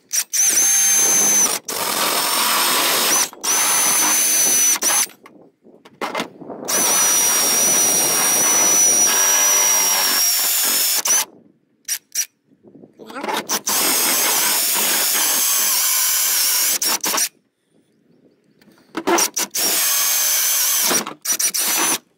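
A power drill with an auger bit bores a hole to pass Romex or MC cable through. It whines loud and close in long sustained runs, broken by short pauses and quick trigger bursts.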